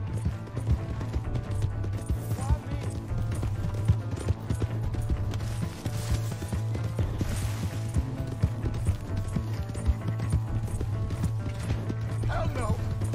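Rhythmic clip-clop of horse hooves in Red Dead Redemption 2 over a steady mechanical drone and music-like tones, with faint voices mixed in; continuous and fairly loud throughout.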